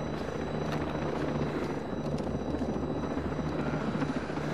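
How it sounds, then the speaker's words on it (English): A helicopter in the video game Ghost Recon Breakpoint flies overhead, giving a steady, loud rotor drone throughout, with no voices. "What is that helicopter doing?"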